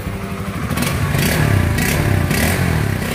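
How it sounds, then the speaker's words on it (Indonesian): A Honda CB150R motorcycle engine idles loudly nearby after a kick start, with a rough, pulsing chug and rattling mechanical clatter, running steadily without any talking. "Nah ini guys sudah terdengar untuk mesinnya sudah bisa hidup."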